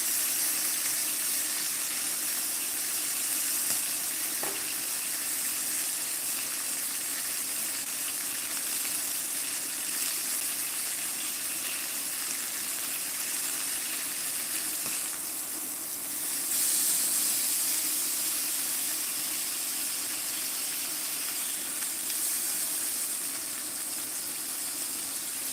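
A steak sears in a hot pan: a continuous bright sizzle and hiss, steady and close, with a brief swell partway through and no speech.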